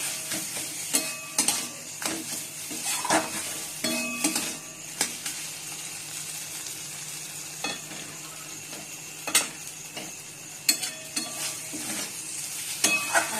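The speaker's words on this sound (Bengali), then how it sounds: "পোস্তটা ভাজছি এবার।" Poppy seeds with chopped green chili fry in a pan, giving a steady sizzle broken by repeated sharp clinks and scrapes of a spatula stirring against the metal, close and fairly loud throughout.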